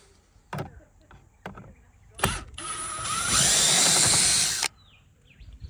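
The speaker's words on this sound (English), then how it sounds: "So let's grab the drill." A power drill undoes the door mirror screws on a Holden VR/VS Commodore: a few sharp clicks and knocks, then a loud, close whirring burst of about two seconds that stops abruptly.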